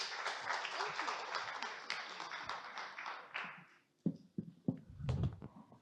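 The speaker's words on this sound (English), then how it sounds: "Round of applause." Audience applause at a sustainability summit talk, a dense sustained clapping that fills the first four seconds, then breaks off into a few scattered, separate claps and thumps.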